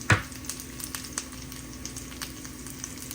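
Corned beef dropped into a hot pan: a quick loud hit, then a soft, steady sizzle with small crackling pops, heard close and alone.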